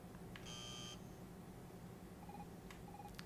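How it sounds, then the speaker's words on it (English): Short electronic buzzer tones sound in the Evoland video game, a steady tonal burst early on followed by two brief high beeps later, over a constant background hum. "When you hear the buzzer, move to the right."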